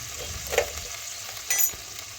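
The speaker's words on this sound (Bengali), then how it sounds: "এখন আবারও নাড়াচাড়া করে চিকেনটা দেখুন এক জায়গায় জড়ো করে নিয়েছি" Chicken cooking in a pot on a clay stove is stirred, giving a steady close sizzle with a couple of scraping strokes against the pot and no voices.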